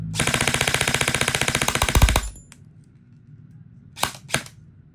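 An E&C 840GY SAI T2 airsoft electric gun fires a fast full-auto burst of sharp, evenly spaced clicks for about two seconds, followed after a pause by two separate single shots, close and clear.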